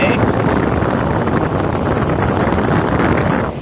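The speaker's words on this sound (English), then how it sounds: "let's switch on the fan" Steady, loud rush of air from a car's air conditioning fan inside the cabin, a constant broadband blowing that holds evenly for several seconds before easing slightly at the end.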